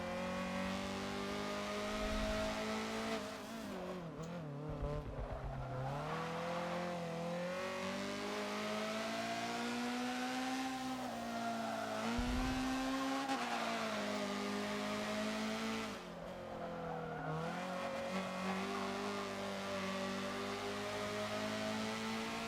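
Honda CRX front-wheel-drive race car lapping the Long Beach track in Forza, its engine revving hard in rising and falling sweeps with brief dips at gear changes and braking, loud and continuous with no talk.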